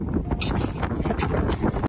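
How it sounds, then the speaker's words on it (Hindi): Strong wind gusts buffeting the microphone high on a mountain above base camp, a steady roaring rumble with brief surges, close and loud throughout. "आज भी बहुत ज्यादा तेज हवा भी चल रही है"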